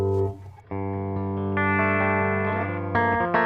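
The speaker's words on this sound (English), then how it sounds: "So basically it has a simple clean channel in the pedal as well." A clean electric guitar rings out sustained chords through the clean channel of a distortion pedal, a few changes over a few seconds, with no talking.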